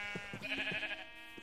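A sheep bleats once in the Minecraft video game, a short wavering cry heard alone against a faint steady game hum, with light thumps around it.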